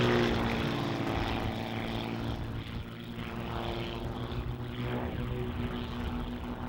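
Aircraft of the 1997 Rover Group Aerobatic team fly at a seaside carnival airshow, a steady propeller engine drone with a sweeping, wavering tone as they pass, fairly loud.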